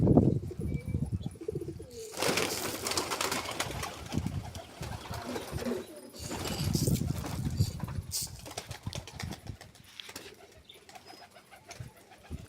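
Pigeons on a pigeon farm coo and stir in a continuous flock, with bursts of fluttering and rustling that rise and fall across the clip.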